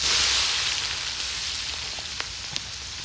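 Onions frying in bacon grease for a bacon, onion and tomato jam hiss with a dense, steady sizzle that fades a little over time, with a few faint pops and spits and no voices.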